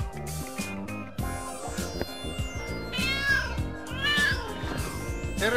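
A cat in the video game Lego City Undercover meows several times over busy, layered game music and effects. The meows are clear and rise near the end.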